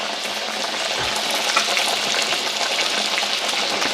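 Onions frying in a pan with grease, giving off a steady, dense sizzle and crackle that holds at an even loudness throughout, close and unbroken, with no talking over it.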